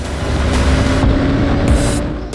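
A Royal Enfield Super Meteor 650 motorcycle cruising at speed in sixth gear, with a loud, steady engine drone and wind rush throughout, no voices.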